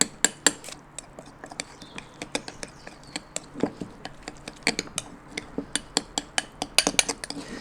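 A utensil stirs a seasoning mix of salt and cracked black pepper in a bowl for lamb, giving a steady run of close, sharp clinks and scrapes against the bowl with no voices.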